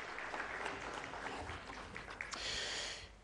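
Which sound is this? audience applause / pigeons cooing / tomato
audience applause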